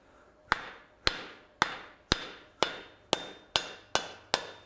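Metal is hammered on an anvil during forging, nine sharp ringing blows at an even, deliberate pace, each one decaying quickly, close and loud with no talk.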